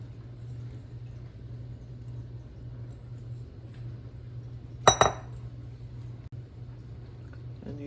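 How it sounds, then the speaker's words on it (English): A metal fork clinks against a dish while pressing bread into an egg mixture for a sausage egg casserole, a low steady hum underneath and a couple of sharp clinks near the middle. "And use a fork to get the bread into the egg mixture."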